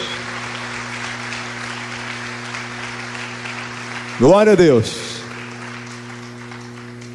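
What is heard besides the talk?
applause in church congregation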